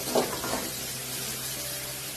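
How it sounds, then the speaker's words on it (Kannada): Garlic and curry leaves fry in hot oil in a pan for a village-style small brinjal dish, giving a steady close sizzling hiss with a brief crackle at the start. "ಹಾಗೆ ಈ ಬೆಳ್ಳುಳ್ಳಿ ಮತ್ತೆ ಕರಿಬೇವಿನ ಸೊಪ್ಪನ್ನ ಹಾಕೊಂಡು ಫ್ರೈ ಮಾಡ್ಕೊಳ್ಳಿ"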